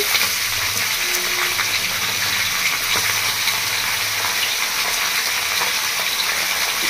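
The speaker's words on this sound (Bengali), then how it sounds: "দেশি মুরগি গায়ে হালকার মধ্যে চর্বি থাকে সেই জন্য তেলটা ফুটছে" Oil bubbles and sizzles steadily in a pan while country chicken fries, a continuous close hiss with faint crackles throughout and no break.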